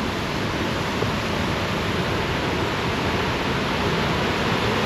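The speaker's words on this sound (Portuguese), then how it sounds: "tem uma queda d'água." A waterfall on an isolated mountain river in Serra da Peneda gives a steady, loud, broadband rush of falling water that stays constant throughout, with no talking over it.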